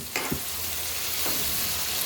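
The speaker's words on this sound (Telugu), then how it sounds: "ఓకే, ఇది వేగుతూ ఉంటుంది." Garlic frying in a pan, a steady close sizzle with a couple of brief clinks of a utensil stirring near the start and no talking.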